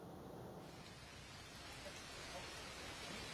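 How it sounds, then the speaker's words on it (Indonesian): Heavy rain pours at Simpang Gadog in the Puncak area of Bogor, a dense, steady roaring hiss that stays loud and unbroken throughout, with no separate thunderclap standing out. "saat ini di Simpang Gadok ini terjadi hujan yang cukup lebat disertai dengan petir"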